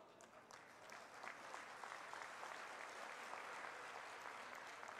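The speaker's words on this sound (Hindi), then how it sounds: "जो मेरे कानों में तालियों की गड़गड़ाहट की आवाज सुन रहा हूं" Sustained applause from a political rally crowd in Chitrakoot, steady dense clapping at moderate distance throughout, fairly faint overall with no distinct voices.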